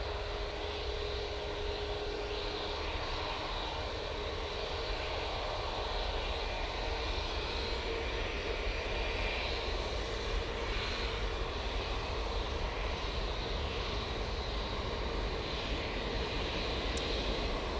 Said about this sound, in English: KLM now coming in from Amsterdam Schiphol using their Embraer E190